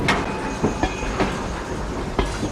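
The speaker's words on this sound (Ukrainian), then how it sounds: "На допомогу примчалися чергові караули з ДПЧ-24 і 61-го арсеналу, а згодом пожежний поїзд" A fire train, a railway firefighting unit, rolls in during a firefighting drill, its wagons clattering over rail joints in a steady clickety-clack with periodic wheel thumps, continuous and fairly loud throughout.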